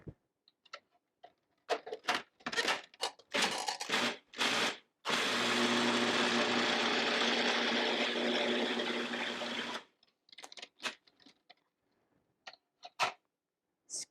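A food processor pulses a beet burger mixture with flax seeds. Several short bursts come first, then a long steady whir of about five seconds, then a few more quick pulses and clatters.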